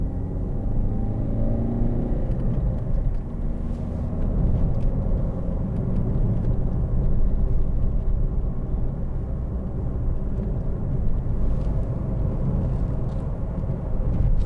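Cabin of a white 2013 Ford Focus 1.6 TDCi ECOnetic diesel on the move: a steady low engine and road rumble with tyre noise carries on throughout, with a faint rise as it pulls away and no one talking.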